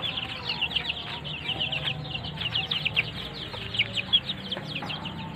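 Week-old chicks in a ground-level coop cheep in a dense, continuous chorus of high, rapid peeps, close and busy, with low background noise and no talk.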